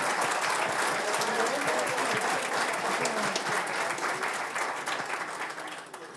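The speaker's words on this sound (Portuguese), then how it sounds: "eu queria pedir uma salva de palmas para os nossos patrocinadores." A forum audience applauds its sponsors with dense, sustained clapping that fills the room, staying loud before gradually tapering off toward the end.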